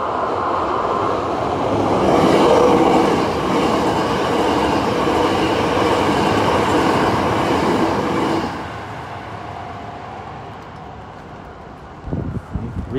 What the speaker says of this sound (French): We got trains